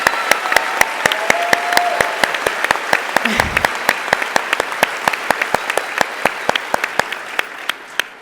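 An audience applauding a speaker at an event: sustained clapping with sharp individual claps popping out, a brief low thump partway through, and no talk over it.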